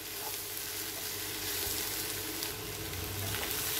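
Mashed potatoes are stirred into a frying pan for a South Indian potato roast, giving a faint continuous sizzle with soft scraping of the spoon, quiet and steady with no voices.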